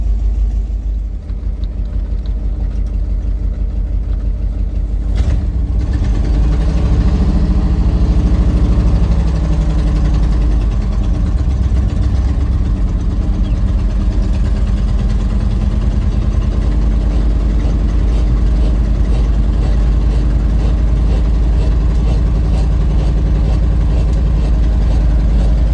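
An old dump truck's engine idles steadily after a carburetor rebuild, a loud, close, continuous low rumble running unchanged for the whole stretch with no voices.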